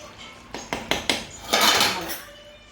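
Several sharp knocks and clatters of a clay cooking pot holding coconut oil, then a louder scraping swirl of the pot against a surface that fades out.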